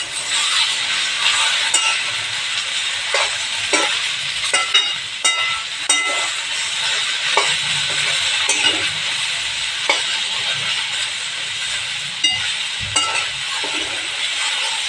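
Okra coated in besan and masala frying in a pan, a continuous loud sizzle with the scrape and clink of a spoon stirring at intervals. No one speaks over it.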